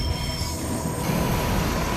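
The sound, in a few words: train carrying rails rolling through a curve, wheels squealing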